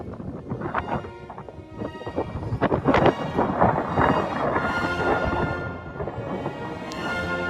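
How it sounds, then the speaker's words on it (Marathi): Wind blusters into the microphone outdoors at the Matheran hill station, a loud, rough, continuous roar that surges and gusts throughout with no talk. "वारा सुटत आहे"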